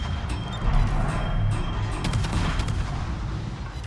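Naval guns fire in the World of Warships game, a dense rumbling barrage of booming shots and crashes that runs continuously and loudly.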